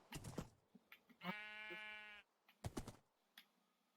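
A single sheep bleats once in a video game, a clear wavering tone lasting about a second, set between brief clicking and tapping sounds, close and quiet.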